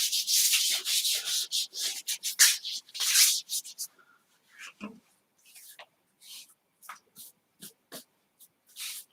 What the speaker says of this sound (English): Rub your arms.